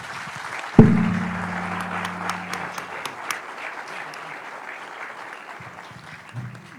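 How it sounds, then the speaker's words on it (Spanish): After a brief low thump, an audience at a seismic risk reduction conference applauds a speaker with moderate, scattered clapping that tapers off gradually, a low hum running underneath. "le damos un fuerte aplauso"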